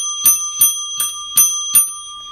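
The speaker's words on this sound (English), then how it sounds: "once I ring the bell" An auction bell rung to close the bidding, five bright, evenly spaced metallic dings with a steady ringing tone between strikes, loud and close with no talking.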